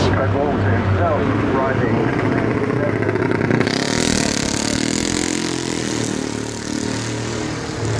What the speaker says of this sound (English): as the motorcycles are on their way